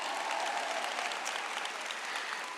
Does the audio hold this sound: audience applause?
yes